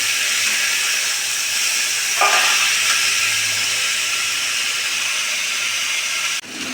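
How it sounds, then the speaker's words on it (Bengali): Chicken is added to onion, garlic, carrot and other vegetables frying in a pan, giving a steady, fairly loud hiss and sizzle that surges briefly and then cuts off near the end. "সবজিটা একটু ভাজা ভাজা হয়ে গেছে, এবার চিকেনটা দিয়ে দেওয়া হবে।"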